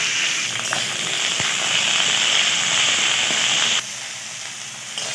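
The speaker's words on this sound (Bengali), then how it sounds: "কেটে রাখা ভেন্ডিগুলো এর মধ্যে দিয়ে দেবো, দিয়ে ভেন্ডিটাকে ভালো করে ভেজে তুলে দেবো" Okra fries in mustard oil in a wok with a steady, dense sizzle and fine crackling that holds for several seconds, then drops slightly quieter near the end.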